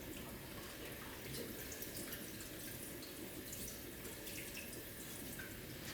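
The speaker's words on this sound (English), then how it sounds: "the water is no longer pooling, it is running off" Tap water runs steadily off a degreased etching plate in a printmaking studio, a constant close hiss and splash with faint trickling throughout and no pauses.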